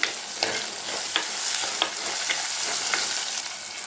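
Curry leaves frying in a pan for prawn curry, a bright, steady sizzle with regular scraping stir strokes about every half second, fairly loud and close, no speech.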